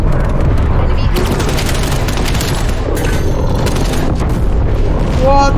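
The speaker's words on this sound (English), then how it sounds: "Artillery targeting detected." Artillery strike explosions in Black Ops Cold War multiplayer, loud continuous rumbling booms and crackling blasts, with a voice talking over them.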